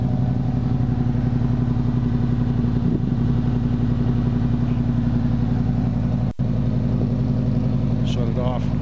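An 1988 Chevrolet K5 Blazer engine idling while leaking coolant, a loud, steady low rumble with light clatter that runs throughout, interrupted by one brief sharp click near the end.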